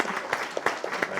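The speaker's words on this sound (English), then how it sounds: "Big round of applause." An audience at a book release conversation applauds briefly, a moderate mix of overlapping claps with a few sharper individual hand strikes standing out.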